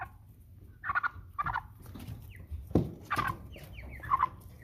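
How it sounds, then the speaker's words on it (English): Nine-week-old American Bresse pullets cluck and call in short, moderately loud bursts spaced around a second apart, with soft rustling and background barn noise between calls. "You a bunch of dirty birds."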